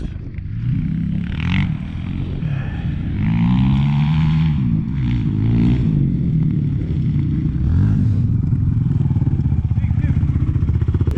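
A Honda TRX450R ATV engine runs and revs nearby, its loud low rumble rising and falling across the span while people talk over it.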